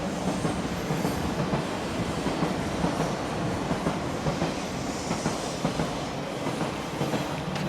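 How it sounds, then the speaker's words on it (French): An Île-de-France tram stands at a stop, giving a loud, dense, continuous rumble of rail machinery with a faint metallic clatter throughout and no voices. "Bon, le tram est là, il part dans 6 minutes"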